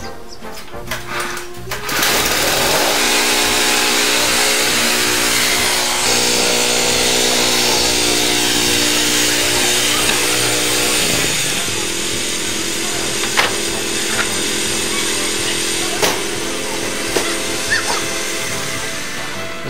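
A small gasoline lawnmower engine drones steadily and loudly at close range for most of the clip, its pitch shifting slightly as the load changes.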